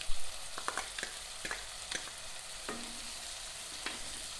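Capsicum and onion sautéing for pav bhaji, a soft continuous sizzle broken by several sharp scraping clicks of a spatula stirring the pan.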